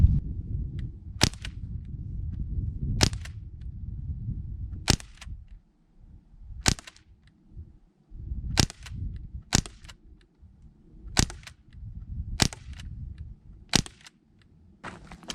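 Ruger 10/22 CO2 replica air rifle fired repeatedly outdoors, about ten sharp cracking shots at irregular intervals over a low rumbling background, no talk.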